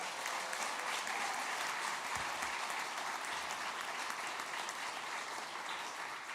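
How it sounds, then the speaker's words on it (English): An audience applauds at a PWHL hockey event announcing expansion into Hamilton, a continuous even wash of clapping from a large crowd that holds steady for several seconds. "can we give them one more round of applause here?"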